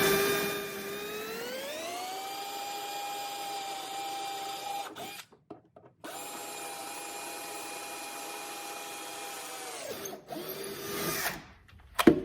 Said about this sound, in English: And I'll drill my 2 holes to go through.